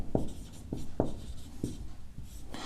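Pen writing on paper while maths is worked on a page, with short scratchy strokes in a stop-start rhythm, each burst brief and close, and no voices.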